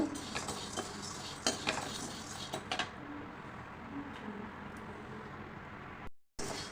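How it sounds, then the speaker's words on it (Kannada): Urad dal roasting in a pan for wedding-style sambar powder, with a scraping spatula and light clinks over a steady faint sizzle, busier at first and then settling into a quiet hiss. "ಇದಕ್ಕೆ ಉದ್ದಿನಬೇಳೆ ಹಾಕ್ಕೊಳ್ಳೋಣ ಎರಡು ಹೊಂಬಣ್ಣ ಬರೋ ತನಕ ಹುರಿಬೇಕು"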